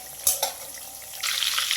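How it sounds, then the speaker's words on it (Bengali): Prawns fry lightly in oil with a steady hiss, two sharp utensil knocks near the start, and the sizzle swelling louder toward the end. "খুবই হালকা করে ভাজা করতেছি"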